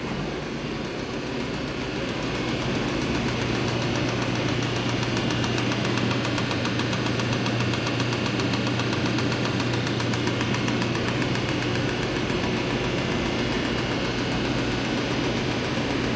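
Steady mechanical chatter and hum from elevator machinery, a continuous rattling drone that holds constant throughout without pauses or voices.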